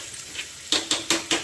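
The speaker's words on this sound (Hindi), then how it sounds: "पहले उसको हल्का सा प्याज को फ्राई किया था, फिर पीसी थी, अब फिर दोबारा छौंक रही।" A pan of freshly ground sil-batta chutney with fried onion being tempered, four sharp metallic clinks of a utensil against the pan in quick, even succession after a quieter start.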